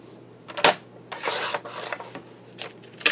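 Scissors cutting through stamped background paper, a run of close, dry rasping snips and rustles in uneven bursts with short pauses between them.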